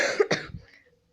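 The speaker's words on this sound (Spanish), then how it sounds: "Como todavía no me alivio muy bien de la tos" A single close, fairly loud cough with a throaty burst that fades quickly into silence, and no speech.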